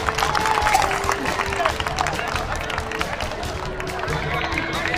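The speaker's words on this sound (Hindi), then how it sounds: "जोरदार तालियों से स्वागत करेंगे" Crowd at a political development event in Chhatarpur, Delhi, applauding with scattered, lively clapping amid crowd murmur, loud and close, with voices mixed in.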